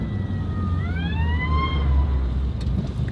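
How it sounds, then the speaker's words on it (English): An ambulance siren wails past in the distance, its rising and falling tone steady over a constant rumble of background noise. "Goes an ambulance."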